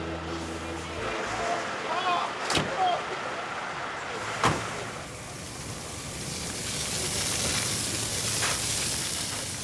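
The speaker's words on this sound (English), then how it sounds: "I'll just move my car out of the way just so fire can get closer." A police officer's car is moved aside at a fire scene. A couple of sharp door-like thumps are followed by a rising engine and road rumble, with voices heard nearby.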